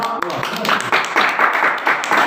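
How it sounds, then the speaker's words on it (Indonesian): An audience claps together in a burst of applause lasting a couple of seconds, with voices mixed in. "Tepuk tangan dulu."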